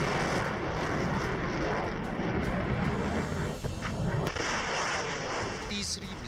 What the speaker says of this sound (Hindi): प्रशांत महासागर के सीने को चीरती रूस की मिसाइलें।